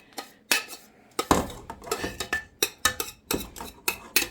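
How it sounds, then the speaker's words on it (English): A spoon scrapes and clinks against a cooking pot, pulling out the last of a cheese sauce for mushroom Swiss pasta, a series of sharp metallic taps and scrapes in an irregular rhythm, close and clear. "scrape out the whole pot"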